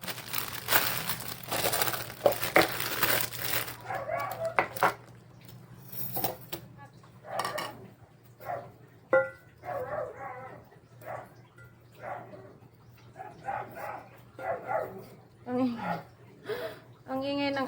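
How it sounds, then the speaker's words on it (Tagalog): A dog barks repeatedly in short, uneven bursts, fairly close, after a stretch of rustling and crinkling noise at the start. "Ang ingay ng aso."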